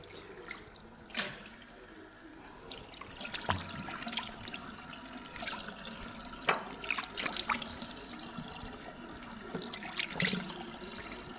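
Tap water runs during rinsing, an irregular splashing flow with bursts and spatters as hands or objects move under the stream, fairly close and moderate in level, no voices.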